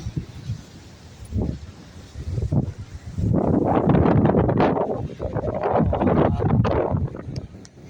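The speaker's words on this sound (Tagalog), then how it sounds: "malakas po ang hangin" Strong wind on Jeju Island, South Korea, buffets the microphone in loud, rumbling gusts that build and stay heavy, with faint rustling underneath.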